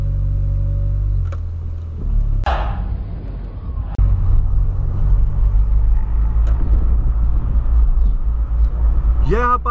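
A Volkswagen Polo pulls away slowly with a low, steady engine rumble close by, and a few clicks and knocks come through the cabin.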